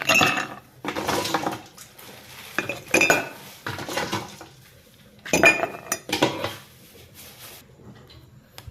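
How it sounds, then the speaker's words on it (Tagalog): Ice being added to a drink shaker, with loud, close clinks and clattering rattles in several bursts separated by short pauses, and no talking. "Lagyan natin tong ice."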